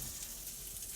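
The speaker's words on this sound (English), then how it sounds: "You really hear the sizzling." Salmon sizzles on a hot griddle inside a Convotherm maxx pro combi oven, a steady dense frying hiss that holds throughout without a break.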